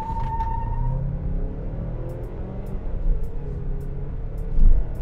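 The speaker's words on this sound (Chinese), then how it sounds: "做0到100的加速实测，看看这一个 Turbo 版的 CX-5 到底厉不厉害" A Mazda CX-5 2.5 Turbo in Sport Mode with traction control off, accelerating from standstill toward 100 km/h in an open lot: a smooth, low engine rumble heard from inside the cabin, rising gradually with a brief louder swell near the end.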